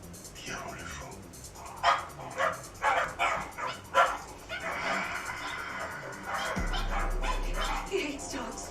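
Dog barking in the anime Cowboy Bebop, several sharp barks in a quick series amid soundtrack and speech, followed by a steady low hum.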